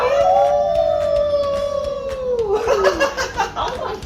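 Several people howl together in imitation of a wolf, a long, loud, falling voiced wail that breaks into laughter and chatter near the end.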